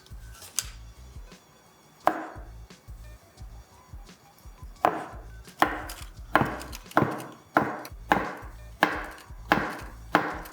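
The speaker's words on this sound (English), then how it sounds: "this is a beetroot that I roasted beforehand that I'm just gonna cut now into cubes" A knife cuts a roasted beetroot into cubes on a cutting board. A few isolated chops are followed by a quick, steady series of firm thuds close by, with no talking.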